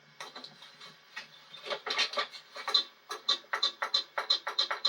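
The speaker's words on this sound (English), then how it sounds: "You get that solenoid sound." A solenoid in the dash area of a 1977 Ford F-150 pickup clicks over and over, with sharp, close ticks that start irregular and settle into a quick, steady rhythm.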